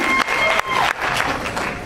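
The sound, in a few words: audience applause for pianist Natasha Tidmore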